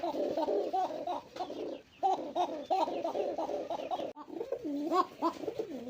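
Pigeons offered for sale coo nearby in repeated throaty, rolling bursts separated by brief pauses, clear and close with no talk.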